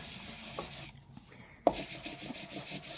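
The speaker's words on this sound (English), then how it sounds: "So I'll sand half of this," Two-tone white core cardstock being sanded, giving a close, steady scratchy rubbing broken by a short pause and a single sharp tap before the rhythmic strokes resume.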